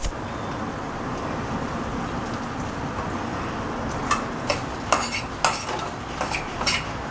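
Poha mixed with coriander and stirred in a pan, a soft continuous rustle with several sharp spoon clinks against the metal toward the end.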